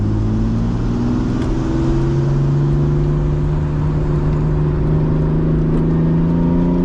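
Manual Lexus SC300 with a welded differential on the move, a loud steady engine drone rising slowly in pitch as it gradually accelerates, heard from inside the car without a break.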